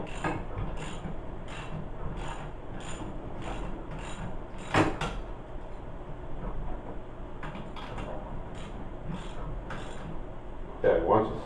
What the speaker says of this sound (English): just tighten up one side, one bolt first, just so it's snug